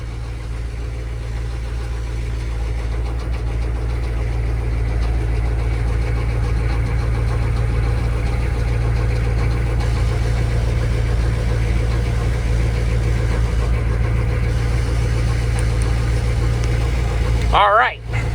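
A 6.2 Detroit diesel engine in a truck idles in bitter cold, a steady low rumble with a knocking edge that holds throughout, with a brief clatter near the end.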